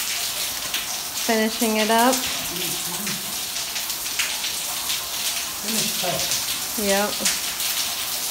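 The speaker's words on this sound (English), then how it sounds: "Look at all the rain." Steady rain falls across the whole stretch as a broad, even wash of patter and splashing, with people talking briefly over it now and then.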